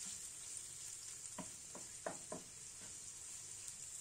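Prawns fry in oil with a faint, even sizzle, while a handful of soft scraping strokes from stirring come through in the middle.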